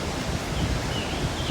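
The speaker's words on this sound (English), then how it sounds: "Like I said, it's super windy." Strong wind blowing outdoors across open paddock ground while fencing, a loud continuous broadband rush with steady buffeting and no other distinct sounds.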